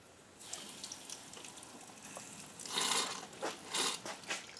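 Water and compressed air are forced through a car heater core on an Audi B5 with no heat. The sound is a faint sputtering gush with irregular bursts of spraying and hissing that grow louder toward the end.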